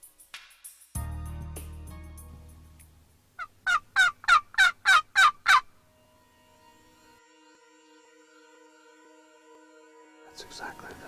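A wild turkey tom gobbles in a rapid run of about eight sharp, rattling calls, fairly close, after a low rumble, with quiet background and faint voices.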